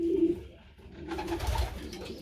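Pigeons coo softly in a pigeon loft, a low throaty warble starting the clip and swelling again near the end, close by, with light rustling between the calls.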